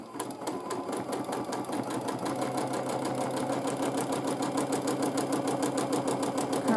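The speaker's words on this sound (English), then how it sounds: "I am just quilting a nice" Steady, close hum of a sewing machine quilting a wavy line, its rapid stitching rhythm running continuously without pause.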